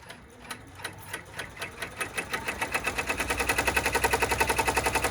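Sewing machine stitching a Stars and Stripes clutch, a rapid mechanical clatter that starts slow and steadily speeds up into a fast, even rhythmic chatter, close and moderately loud with no talking.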